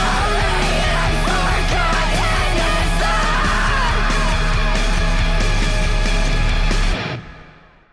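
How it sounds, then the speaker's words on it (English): Raw, strained screaming vocals ride over dense, loud heavy music, sustained throughout before the track cuts off and fades near the end. "Love the background screams that she's got going on there."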